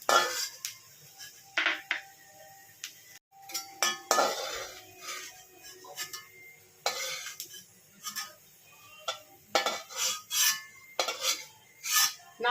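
Fried coconut pieces are scraped and lifted from a pan of hot oil, a metal spatula clinking and clattering against the pan in irregular bursts, close and fairly loud.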